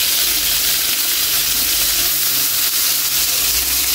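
Onions frying in a pan for chicken menudo, a steady, loud, dense sizzle running unbroken throughout with a low rumble beneath, and no talking.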